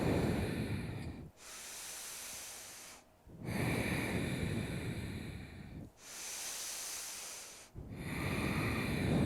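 Deep, slow breaths during a prenatal yoga flow: three long airy inhale-exhale cycles, each several seconds long with brief pauses between, close and breathy with no talking.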